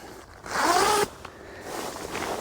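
Zipper on a Tragopan Monal V2 photography hide pulled open in one quick, close rasping run, then a short, softer zipping sound afterward.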